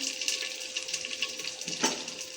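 Onions fry in oil inside a clay pot, giving a steady bright sizzle with small crackles and a brief stir-like scrape near the end, fairly close and without talk.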